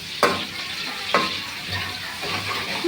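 Eggplant and hilsa fish cooking in hot oil with green chillies, a loud continuous sizzle broken by two sharp clanks of a utensil against the pan and some stirring scrapes.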